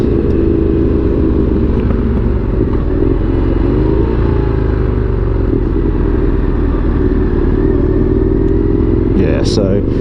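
An Indian FTR1200 motorcycle cruises in first gear on a cold winter day, its engine a loud, steady, slightly lumpy rumble close by, with a brief sharper sound near the end.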